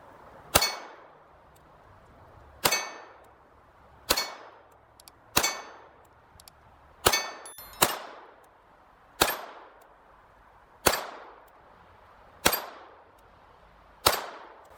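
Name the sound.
Walther P22 pistol shots being fired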